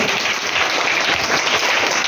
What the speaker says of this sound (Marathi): जोरात टाळ्या वाजवा सगळ्यांनी.